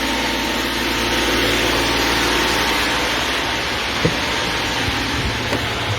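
A 2010 Audi A6 V6 TDI diesel engine idles steadily during a particulate-filter cleaning, producing a constant close low rumble with a faint mechanical whine and one brief knock near the end.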